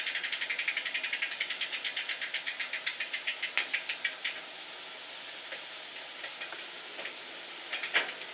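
Kent Bayside bicycle derailleur ticking through its gears toward the 7th sprocket, a steady run of quick close clicks from the freewheel that fade after about four seconds, followed by a few sparse clicks.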